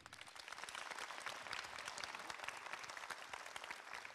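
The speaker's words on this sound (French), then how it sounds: "On peut les applaudir." A convention audience applauding actors at a fan conference in Toulouse, dense continuous clapping throughout, heard from within the crowd at moderate distance, no speech over it.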